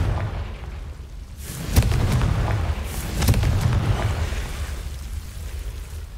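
A blasting-curse explosion in Hogwarts Legacy gives a deep booming thump with a sharp crack, then a second rumbling blast about 1.5 s later, both near and loud over a low rumbling bed, with no talk.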